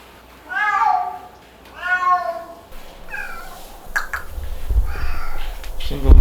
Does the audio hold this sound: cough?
no